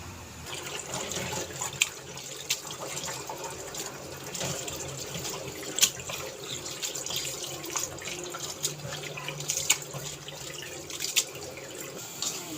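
A kitchen tap runs steadily while kachki fish are rinsed, water splashing and trickling close by with a few sharper clinks and knocks in between.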